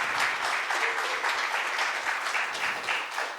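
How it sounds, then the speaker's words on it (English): Audience applause at a talent show audition for a contestant's parents, a fairly quiet but continuous patter of many hands clapping for a few seconds with no one speaking. "A round of applause for his parents."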